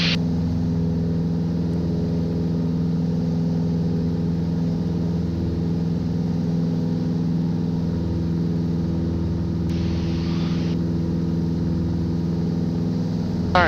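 Steady, loud drone of a Mooney light aircraft's piston engine held at about 2,500 RPM during climb, heard from inside the cabin, with a constant hum and no talking.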